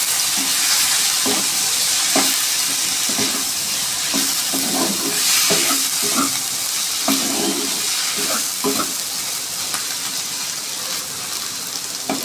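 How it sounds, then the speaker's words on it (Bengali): Fried potatoes and spice paste for a Lotte fish curry sizzle steadily in a hot pan, with repeated scraping and stirring clacks of a spatula over the constant frying hiss; no voices. "আলুটা একটু ভালো করে কষে নেব"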